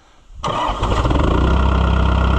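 A White Iseki 2-65 tractor engine cranks and catches abruptly, then settles into a steady, loud, rumbling idle close by.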